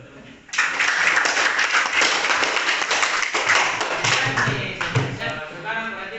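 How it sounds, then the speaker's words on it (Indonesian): Schoolchildren in a classroom clap their hands together in a loud, sustained burst lasting several seconds, with a few sharper taps scattered near the end. "tepuk tangan dulu"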